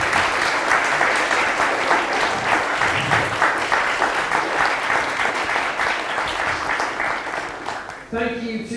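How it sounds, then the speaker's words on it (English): A pub audience at a Skeptics in the Pub talk claps in a sustained, loud burst that lasts about eight seconds, then gives way to someone speaking at the end. "A big round of applause, please, for head of steam of Richard Toast this evening."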